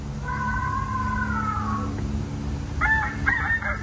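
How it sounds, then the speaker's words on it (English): A sensor-triggered statue at a Thai museum plays a recorded chicken call: a drawn-out electronic squawk, then a brief pause and a few more clucking bursts, heard over steady background hum. "Chicken."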